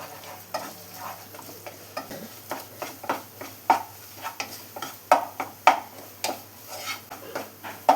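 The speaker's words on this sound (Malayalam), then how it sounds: "ഇനി ഇതെല്ലാം കൂടെ ഒന്ന് മിക്സ് ചെയ്ത് കൊടുക്കാം." Stirring horse gram fry with chili powder and salt in a frying pan: steady scraping and clinking strokes of a spoon against the pan over a soft sizzle, rhythmic and close, with no talking.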